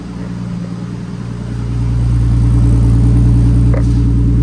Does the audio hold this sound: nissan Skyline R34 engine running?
yes